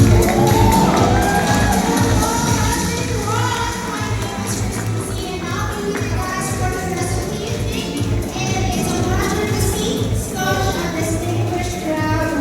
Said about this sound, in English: applause for Miss Christine C